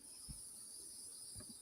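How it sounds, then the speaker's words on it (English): Cicadas buzz outdoors in a steady high, faint drone, with a couple of soft low thumps nearby. "Because those goddamn cicadas"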